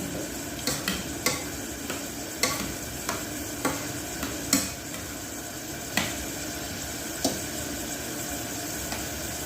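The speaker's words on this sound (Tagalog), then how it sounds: "ito kumukulo na siya" Chicken cooks in a pot, giving a steady bubbling sizzle broken by sharp, spaced clinks and taps, about a dozen over several seconds. The sound is close and moderately loud, with no talking.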